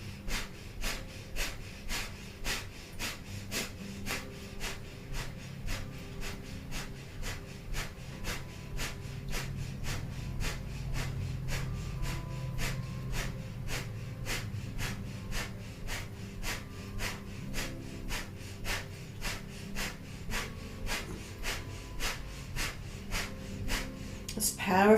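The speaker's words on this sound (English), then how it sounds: "we'll begin breath of fire here for a minute. So panting like a dog through the nose, just pumping the navel" Rapid, rhythmic breath of fire yoga breathing, fast steady panting pumped through the nose, each short sharp exhale evenly spaced for the whole stretch, close and fairly quiet.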